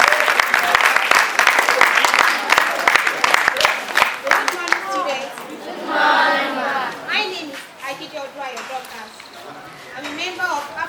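An audience applauds to welcome a speaker at a climate science sensitization event in Nigeria. The clapping is loud and dense at first, then thins out as children's voices and chatter rise through the crowd.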